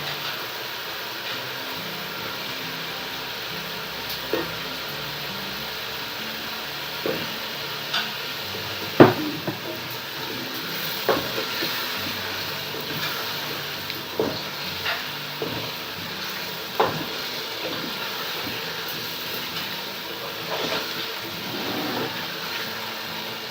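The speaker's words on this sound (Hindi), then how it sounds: "अब हम इसमें चिकन ऐड कर देंगे।" Boiled chicken frying with spices in a pot, a steady low sizzle under scattered scrapes and clicks of stirring, close and fairly loud, no speech.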